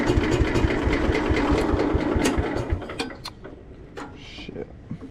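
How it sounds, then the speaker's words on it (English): A vintage garden tractor engine cranks and chugs in rapid, loud rhythmic pulses, then falters and fades out into scattered clanks and quieter sounds. "I'm gonna crank it up and see how it goes"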